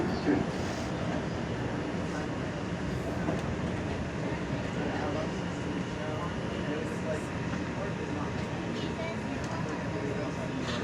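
An R142 subway train on the 2 line rides between 110th Street Central Park North and 116th Street toward 148th Street, giving a loud, continuous rumble and rattle of wheels and car body from inside.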